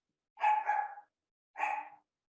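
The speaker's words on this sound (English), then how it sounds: "That is my bad doggy." A pet dog gives two separate barks, each drawn out and slightly wavering, with a short pause between them, heard indoors at moderate distance with no talking.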